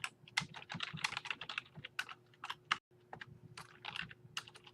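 Rapid computer-keyboard typing while entering a file name, a dense run of close, crisp key clicks in uneven bursts with a brief pause near the end, no talking.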